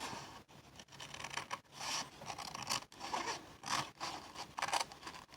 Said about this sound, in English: So you're going to cut along this line.